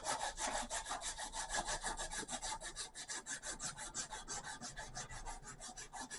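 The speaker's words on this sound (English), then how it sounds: "We do that with strips of 3/4 inch wide 80 grit sandpaper," Fast, steady back-and-forth rasping of 3/4-inch strips of 80-grit sandpaper worked shoe-shine style over knife handle scales, close and continuous with a quick rhythmic stroke.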